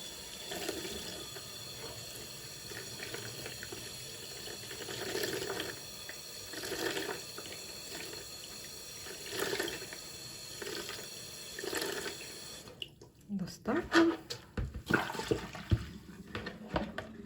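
Water runs steadily from a tap with rinsing splashes and swells as knitting is rinsed, then turns choppier and more broken near the end as something is moved under the stream.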